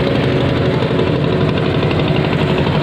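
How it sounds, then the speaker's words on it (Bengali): Steady, close engine drone from a wooden cargo boat hauling bricks on the Ganges near a riverside resort at Falta, running continuously at an even idle-like throb with no talk. "দেখুন খুব সুন্দর নৌকা যাচ্ছে, নৌকা করে ইট নিয়ে আসছে, হাজার ইট যাচ্ছে নৌকাতে।"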